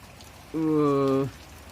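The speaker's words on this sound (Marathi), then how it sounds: "पावसाने रातभर मुसळधार असा पाऊस पण अजूनही चालू आहे" Steady heavy morning rain hisses throughout, and a single sustained tonal call or hum rises over it for under a second midway.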